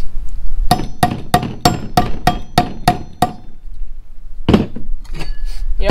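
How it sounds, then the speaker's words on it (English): New bearings are hammered into a go-kart wheel with a run of eight sharp, evenly spaced metallic strikes. After a short pause come a few more knocks, all close and ringing. "we're just going to stick these new ones in there and hammer them in."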